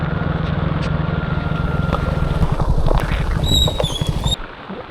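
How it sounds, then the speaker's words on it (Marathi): Konkan flood water from the swollen Bharja river rushing over a bridge, a loud, continuous roaring wash heard up close for several seconds, with a faint engine-like rumble underneath before it cuts off near the end. "हे बघा पूर्ण भरून पाणी वाहत आहे. या ब्रिजवरून पाणी जातं."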